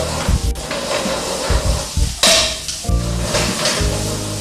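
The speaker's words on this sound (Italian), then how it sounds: "In questo momento aggiungiamo le cozze con la sua acqua." Mussels dropped into a hot pan with their own water, sizzling and hissing loudly and steadily with stirring clatter of a utensil against the pan, close up and without talk.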